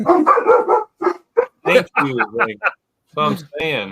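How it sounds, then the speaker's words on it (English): Dogs bark in short yappy bursts in the background of a live Packers draft-news talk stream, mixed closely with someone talking. "I apologize for the dogs, guys."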